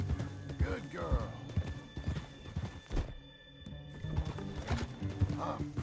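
Horse hooves clip-clop in a steady rhythm in Red Dead Redemption 2, with a horse whinnying and voices talking over the moderately loud footfalls.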